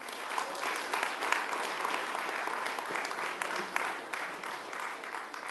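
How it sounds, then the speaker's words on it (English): Audience applause at a Workers Party of Britain political broadcast, a continuous even wash of many hands clapping, fairly distant and soft, filling the whole stretch without a break. "Let's give a big round of applause"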